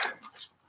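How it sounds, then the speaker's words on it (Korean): A dog gives a short, high yelp or bark-like vocal in a room, brief and close, with no talking over it. "사람이 화답을 안 하면 강아지가 화답을 하게 돼 있어"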